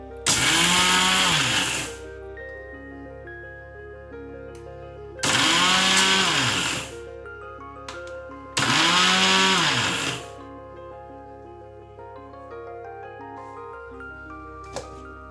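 Three loud bursts of an electric grinder pulverising dry eggshells into powder, each whirring roughly two seconds with rising and falling pitch, separated by quieter intervals of faint music, close to the listener.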